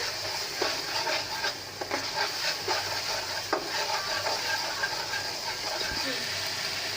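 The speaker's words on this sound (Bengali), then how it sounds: "এখন মশলাগুলো খুব ভালো করে ভেজে নেব।" Spices for a taro and fish curry sizzle in a hot pan, a steady bright crackle broken by scraping stirs and occasional clinks of the spatula, close and continuous with no talking.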